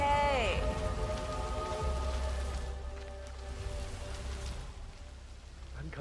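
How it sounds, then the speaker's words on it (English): Rain falls in the Hitman 3 video game, a dense, steady patter on surfaces that continues throughout, with a brief voice-like sound at the very start. "I'm never going on the rain again."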